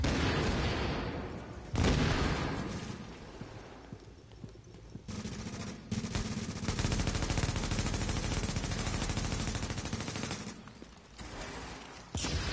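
Enemy gunfire in The Division video game comes as dense, sustained bursts of automatic fire that crackle loudly and continuously, with short gaps between volleys and a dense mix of game action.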